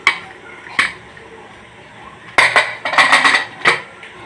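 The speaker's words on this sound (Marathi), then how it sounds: "आणि आता आपण कुकरचं झाकण उघडूया." Pressure cooker lid being opened after cooking rice, sharp metallic clanks and scrapes of the lid against the pot, two isolated knocks first, then a busy cluster of close clinks and rattles.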